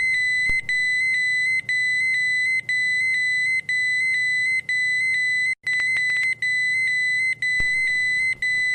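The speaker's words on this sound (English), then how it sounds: "The alarms should activate." A loud, piercing electronic alarm from a Honeywell MultiPro gas detector pulses in a steady repeating pattern, each tone roughly a second long with brief gaps, continuing without pause or voices.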